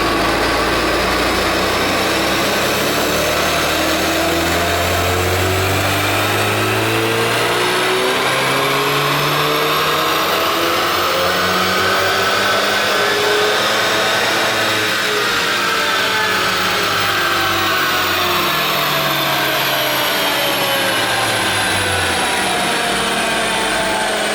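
Tuned Ford Focus RS Mk3 running hard on a dyno, its engine droning steadily and climbing in pitch through long pulls, loud and close, with no talk over it.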